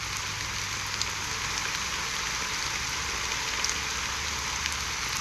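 Steady rain in Penacony from the video game Honkai: Star Rail, a fine drizzle of black rain falling as an even, continuous hiss with occasional soft drop ticks, with no voices.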